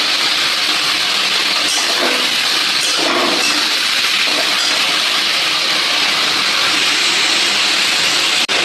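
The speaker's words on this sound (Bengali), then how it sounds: "চিংড়ি মাছগুলো ভাজা হচ্ছে, আমি ভালো করে চিংড়ি মাছগুলো ভেজে নেব" Turmeric-coated shrimp frying in hot oil, a steady loud hiss and crackle that runs unbroken throughout with no talk.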